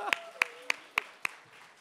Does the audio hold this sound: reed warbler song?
no